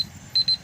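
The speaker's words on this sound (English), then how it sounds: "yeah, that's the alarm for my Sims." A phone or clock alarm set as a reminder for The Sims beeps twice in quick succession, a pair of short, loud, high electronic tones over quiet outdoor background.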